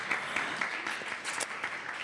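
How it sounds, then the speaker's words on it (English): A live studio audience at a music masterclass claps in a faint, even round of applause that continues without a break. "Give yourselves a round of applause"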